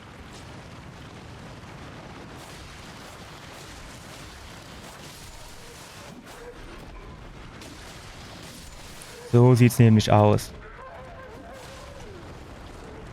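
Explosions in the video game Elden Ring: a sudden loud burst of several booming blasts in quick succession stands out near the end, above a low, murky game backdrop, with someone talking before it.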